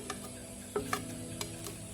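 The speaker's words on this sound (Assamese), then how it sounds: "এনেকৈ মই অকণমান সময় লৰাই থাকিম।" Goat tripe being stirred with meat masala and tomato in a pan, a spoon scraping and tapping a few times over a quiet low sizzle, close and fairly soft.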